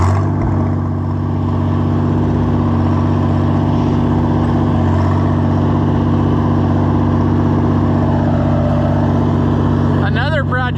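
Gasoline John Deere 4020 tractor engine running at a steady, loud, droning idle for the whole stretch, with a few short chirps near the end.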